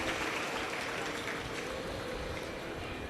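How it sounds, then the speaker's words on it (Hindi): An audience at a Shiv Mahapuran katha, a Hindu religious discourse, claps loudly in a dense, sustained burst of applause that fills the whole moment, with a voice faintly under it. "सभी के लिए जोरदार ताली बजाकर साधुवाद"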